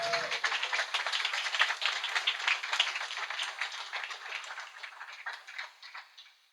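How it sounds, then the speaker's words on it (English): An audience at a helicopter-safety presentation applauds a presenter, a crisp patter of many claps that is fairly even at first and then gradually thins and fades away. "a big round of applause for Benoit"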